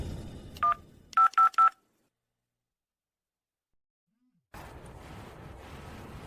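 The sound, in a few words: mobile phone ringing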